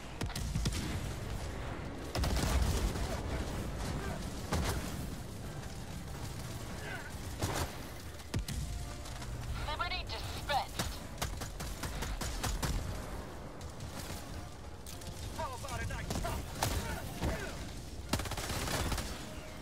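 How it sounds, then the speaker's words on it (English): Enemy artillery fire in Helldivers 2 during a solo mission against Automatons, heard as repeated loud booming blasts and bursts of gunfire scattered throughout, with a voice speaking at times over the noise. "Warning, you are in range of enemy artillery."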